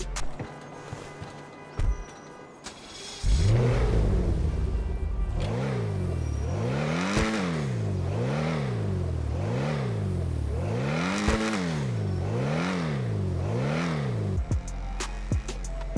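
A sports car engine revs repeatedly in GTA Online, pitch rising and falling in a steady cycle of aggressive, close, loud roars.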